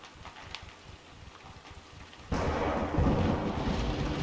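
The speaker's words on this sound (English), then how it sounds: "Thunder's angry." Thunder in the video game Rise of the Tomb Raider: after a quiet stretch with faint rustling, a loud, sustained rolling rumble breaks in suddenly and swells, with wind and rain noise, and no talk.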